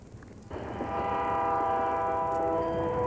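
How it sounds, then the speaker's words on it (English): A Union Pacific freight train's horn blasts suddenly and holds a loud, sustained chord over the heavy rumble of the train rolling close by. "chard Smart on a little used track in Idaho, a Union Pacific freight train rounded the bend unannounced."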